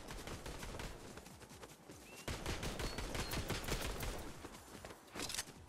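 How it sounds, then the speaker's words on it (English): Gunfire from other players in the video game Fortnite: continuous rapid shooting, dense and fairly loud, with rattling automatic bursts and scattered impact crackles and no talk. "They're shooting."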